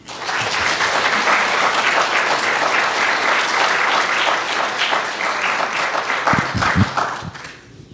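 A large indoor audience applauds at an art collection gift event, a dense, sustained wash of clapping from many hands that swells, holds steady, then thins and fades out at the end.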